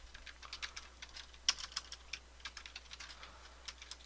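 Quiet clicks of a computer keyboard tap out a quick irregular series of keystrokes, close and faint, with no voice.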